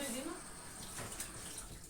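Tap water runs steadily into thick, cheap dish soap to thin it, a close, even rushing hiss filling the short kitchen moment without pauses.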